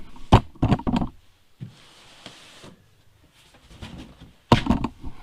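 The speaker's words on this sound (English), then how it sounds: "Let's see if I can open the box." Cardboard box holding a new four-puck clutch assembly for a Freightliner FL70 being handled and opened, with several loud close knocks and thumps at the start and end and quieter scraping and rustling in between.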